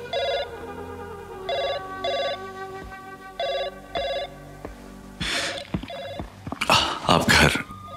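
A telephone rings in repeated short electronic trill bursts, loud and close, followed by louder broadband noise and clatter toward the end.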